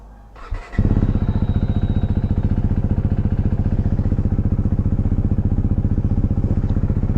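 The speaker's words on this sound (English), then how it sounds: "So let's get the bike fired up and head out." A Husqvarna Svartpilen motorcycle engine catches after a brief crank and settles into a loud, steady, close-up rhythmic thrum as the bike heads out.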